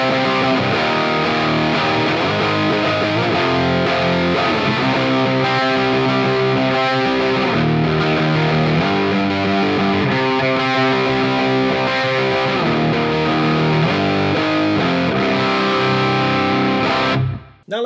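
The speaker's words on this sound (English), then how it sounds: "This is the Fractal 1959 Plexi model running into ML Sound Lab's Mega Green impulse response." Crunchy Plexi-style electric guitar tone from a Fractal 1959 Plexi amp model through a Mega Green cabinet impulse response with a touch of reverb, played as a continuous loud riff that cuts off abruptly at the end.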